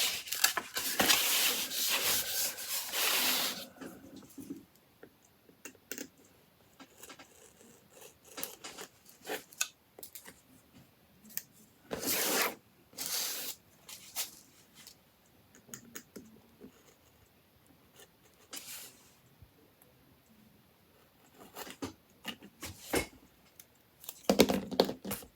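A craft knife trims excess foam board after it is flipped and pressed down, giving intermittent scraping and rubbing cuts in short bursts, louder at the start and near the end, with quiet pauses between strokes.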